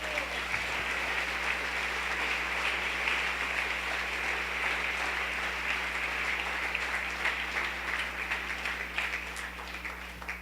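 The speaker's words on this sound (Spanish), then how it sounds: "Denle un aplauso a Él, por favor." A church congregation at a Sunday service applauds for God, a steady, moderately distant roar of clapping lasting around ten seconds over a constant low hum, with scattered louder claps standing out near the end.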